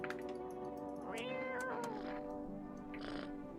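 A cat meows in a video game, a drawn-out rising and falling call over a steady musical drone, followed by a shorter second meow.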